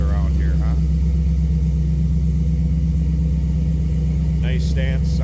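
A 1971 Chevrolet Chevelle Heavy Chevy tribute idles with a steady, deep low rumble throughout, loud and close, while someone talks over it at the start and end.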